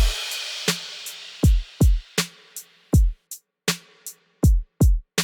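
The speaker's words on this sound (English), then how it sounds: "I made the drums not as present, so I switched up the sample for the snare" A sparse drum pattern of punchy kicks and crisp snare hits over a fading cymbal wash, played alone in a loose, steady groove.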